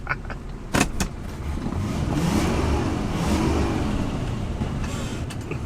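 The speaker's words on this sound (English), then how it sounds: "Yeah, sure, now it revs." Barn find Mercury Cougar, back running after sitting about 40 years, revving its engine close by with a steady, rising and falling roar and a sharp knock early on; no talk.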